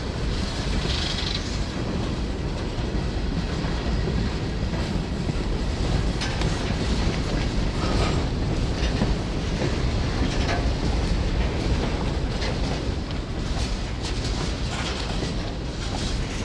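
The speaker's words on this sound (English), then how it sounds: "Southbound trains to Kingsport exit the tunnel and pull their train into the lower tail tracks." A freight train rolls across the Hagans switchback near the Kentucky-Virginia border, a loud, continuous rumble mixed with heavy wind buffeting the microphone throughout, steady without a break.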